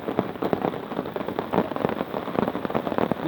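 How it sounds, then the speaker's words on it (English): Steady rain in Dartmoor patters hard on a taut tarp overhead, a dense, close drumming of drops with no voices. "Listen to that rain,"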